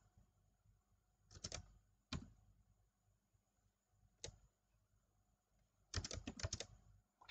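Computer keyboard typing in short bursts of rapid keystrokes, with quiet pauses between the clusters, close and fairly soft, while entering code for a Visual Basic .NET zodiac program.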